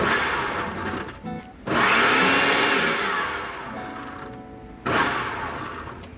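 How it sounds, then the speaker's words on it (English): A blender whirs loudly in several pulses chopping fresh seasoning, its motor cutting off briefly between bursts before spinning up again. "now I'm going to be blending everything together"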